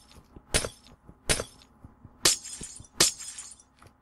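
Glass is broken repeatedly in a video game: four loud, crisp shattering bursts land roughly every three-quarters of a second, each trailing into scattered tinkling shards with faint knocks in between.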